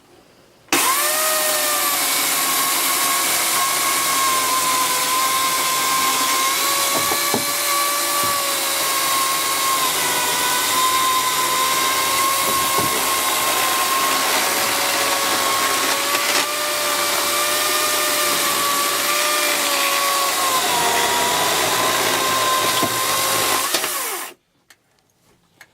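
A powered saw runs continuously through wood for over twenty seconds, a loud steady whine with a sustained tone that wavers slightly under load, starting and stopping abruptly.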